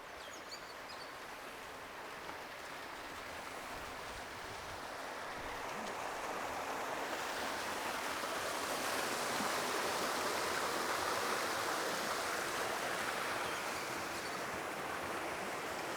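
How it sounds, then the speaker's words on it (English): Water spills steadily over the edge of an infinity pool at a beach resort, a broad, even rushing wash that grows a little louder partway through. "this is the infinity pool right here"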